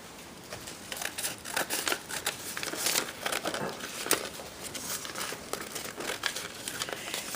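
Scissors snip through paper to shape a homemade bookmark, a run of close crisp cuts and rustles repeating at a steady pace.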